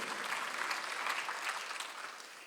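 A church congregation claps steadily for a couple of seconds during a Sunday service, a dense, even round of applause that tapers slightly at the end.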